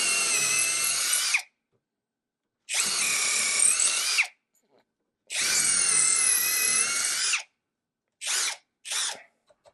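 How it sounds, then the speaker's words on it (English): A LAZYLAND 21V brushless impact driver in drill mode whirs loudly into wood at full speed in three long bursts separated by silence, followed by two short quick triggers, close up with no talking. "Now for drilling in wood, I'm going to want probably a higher speed"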